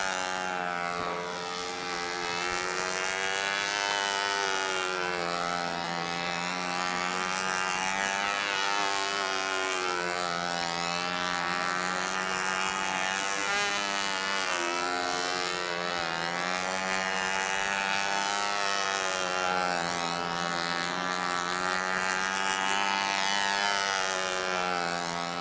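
A control-line model airplane engine drones continuously in flight at a Brodak's fly-in, a steady buzzing whine that rises and falls in pitch with each circling pass, loud and unbroken throughout.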